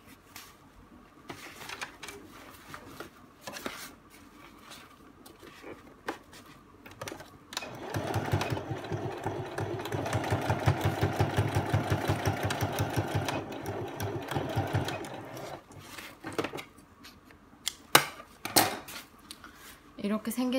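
A sewing machine stitches a zipper pouch seam in one continuous whirring burst of rapid needle strokes, with quieter handling clicks and cloth rustling before and after, and a voice talking faintly at times.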